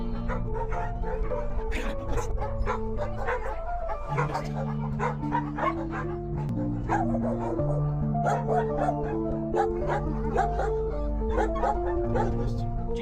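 A small dog with a mammary tumor at an animal shelter gives repeated yips and short whimpering barks throughout, mixed with people talking nearby.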